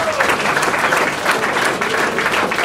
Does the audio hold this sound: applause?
yes